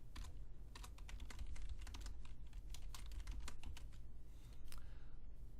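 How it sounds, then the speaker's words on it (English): Fast, steady typing on a computer keyboard, a continuous run of close, crisp key clicks with brief pauses, no voices present. "let me type it out and then I will walk through it"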